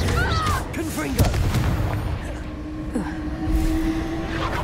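In the video game Hogwarts Legacy, a Confringo blasting spell bursts with a heavy booming blast and rumbling fiery crackle, followed by lingering low impacts and whooshes, all mixed with game sound effects.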